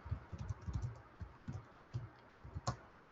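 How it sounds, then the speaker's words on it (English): Typing on a computer keyboard, soft close clicks in quick uneven bursts with short pauses between, faint and quiet with no talking. "I get worse on typing every day"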